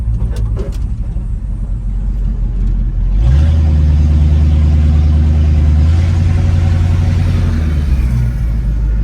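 A classic Ford Mustang with a Quick Performance 9-inch rear end accelerates hard, its engine droning loud and steady, then a shift into a higher gear brings a new rising pitch that keeps building.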